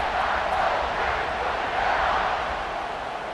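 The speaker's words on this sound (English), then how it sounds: "this crowd is buzzing after that last score" A large football stadium crowd at an Oklahoma vs Ohio State game roars in a steady, broad wash of cheering following a score, sustained and loud throughout with no distinct voices.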